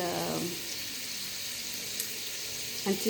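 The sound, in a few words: stirring onions frying in a pot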